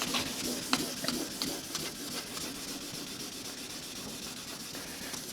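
Wet sandpaper rubs back and forth over a yellowed plastic car headlight lens, a steady hissy scrubbing with rhythmic strokes and occasional gritty scrapes, close and continuous.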